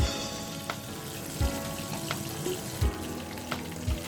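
KFC-style chicken fries in a pan over low heat, a steady close sizzle and crackle running throughout with a few soft bumps and knocks from the pan.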